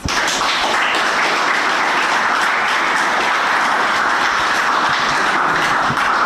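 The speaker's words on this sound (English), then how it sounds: "TAF Africa Global deserve a big round of applause" An audience at a start-up pitching competition claps in a dense, lively round of applause that holds steady and loud for several seconds, with no speech over it.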